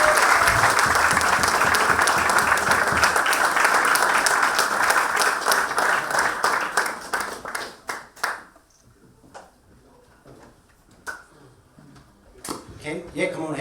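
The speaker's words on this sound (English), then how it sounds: "A round of applause for Aodh Dervin." Audience applause for a guest at a football club Q&A evening, full and sustained for about eight seconds, then thinning to scattered claps and a few murmured voices.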